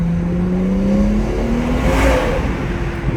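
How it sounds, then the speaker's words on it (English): A stage 2 BMW 340i accelerating hard inside a tunnel at night, its engine droning loud and close with rising pitch as it pulls, the sound reverberating off the walls with no talk over it. "You gotta just step on the gas like this here."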